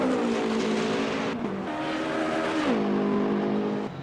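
A hypercar in the game Le Mans Ultimate, racing in the wet at Monza, roars steadily at high revs, its pitch dipping and climbing through gear changes and corners, loud and continuous with no voices.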